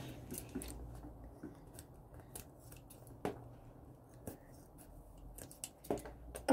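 Scissors snip through packaging several times at irregular intervals, sharp close-up cuts against a quiet room background.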